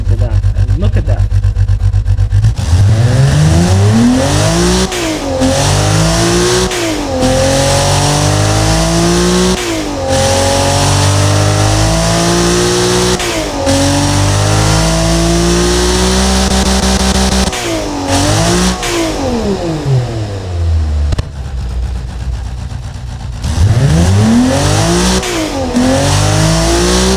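A BMW M30B35 straight-six in the Automation game revs hard again and again, with loud rising and falling sweeps up toward its 7,700 rpm limit and brief dips between pulls, and no one speaking.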